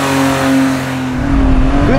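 A weight-reduced car accelerates hard through a 0 to 60 run, its engine loud and close with a rising drone, a shift partway through and then a heavier roar as revs climb again.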